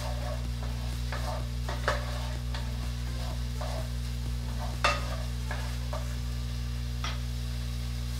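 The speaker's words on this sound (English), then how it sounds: "I'm going to do 3 cloves of the minced garlic. So I'll let that cook for 1 minute." Three cloves of minced garlic cook in a pan for vegan jambalaya, a light sizzle with intermittent scraping stirs over a steady low electrical hum, close and fairly quiet.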